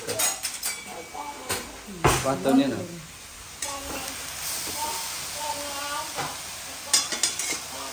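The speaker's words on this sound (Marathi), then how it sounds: "आता ह्याला आपण हातानं परतायचं" Momo filling stir-fried and tossed by hand in a pan, with uneven sizzling, rustling tosses and occasional clatter, while people talk over it.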